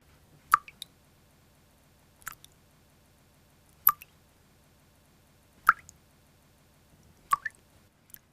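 Water drips slowly from a garden hose, five distinct drops falling roughly every one and a half to two seconds, each a short close plop with a small splash, alone over quiet background.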